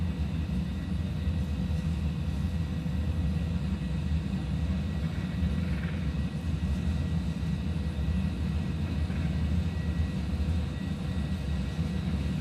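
An airliner rolls down the runway for takeoff at Bogota's high-altitude airfield in a flight simulator, producing a steady, loud, unbroken engine roar and rumble with no break throughout.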